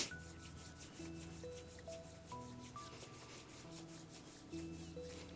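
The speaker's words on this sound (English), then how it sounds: "Then you're going to rub the bottom of your foot." A hand rubs the sole of a bare foot in a hatha yoga class, giving a steady, close, soft scrubbing friction with repeated strokes, heard alone with no talk.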